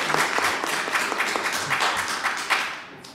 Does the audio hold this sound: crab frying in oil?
no